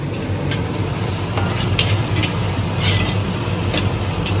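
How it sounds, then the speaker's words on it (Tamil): Small shallots and a large onion sauté in a pan for stingray fish curry, crackling in a constant close sizzle with scattered spatula scrapes and taps. "அப்படியே சின்ன வெங்காயம் ஒரு பெரிய வெங்காயம் வந்து இதுல ஆட் பண்ணோம் ஃப்ரெண்ட்ஸ். அப்படியே எல்லாமே வதங்கட்டும்."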